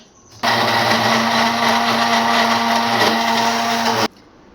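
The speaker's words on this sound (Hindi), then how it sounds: "डालेंगे बर्फ और इसे करेंगे ग्राइंड" A blender grinds ice, milk powder and coffee in one steady, loud whirring burst of about three and a half seconds, starting abruptly and cutting off cleanly, with no talking.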